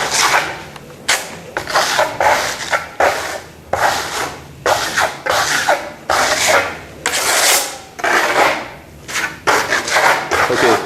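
Rhythmic scraping strokes of a trowel dragging faux concrete plaster across a wall, each pass a loud gritty rasp separated by brief pauses, close and repeated steadily.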